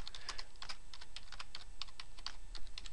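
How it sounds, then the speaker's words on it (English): Steady typing on a computer keyboard, a close, even patter of key clicks running throughout with no voice. "I'm going to type product ID"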